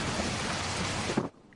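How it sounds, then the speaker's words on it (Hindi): Steady rain falling in the Thar desert makes a brief, even hiss of dense patter that cuts off abruptly after about a second. "बारिश भी वक्त पर बरस पड़ी।"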